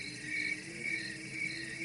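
Crickets chirp at night in a steady, continuous trill with slightly pulsing strength, close and alone with no other sounds.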